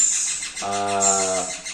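A ringneck parakeet chick gives one harsh, buzzy begging call lasting under a second during hand-feeding, close and fairly loud over a hissy background.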